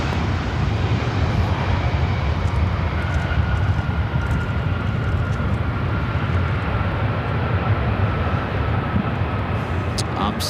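A fixed-wing aircraft at LAX airport gives a steady, loud engine roar that holds without a break throughout.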